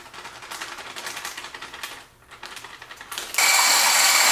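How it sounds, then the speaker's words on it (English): A whisk beats a mixture containing powdered sugar in a bowl, giving a rapid, steady run of close clicking strokes that pauses briefly before a loud, hissing rush of noise takes over at the end. "so we're just going to keep whisking"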